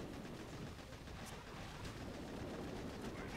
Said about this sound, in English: Throw down two barrages and a bomb.